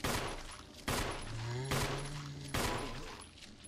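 Four loud, sharp gunshots in Resident Evil fire at a steady pace, each a sudden burst with a short ringing tail, and a low tone hums between the shots.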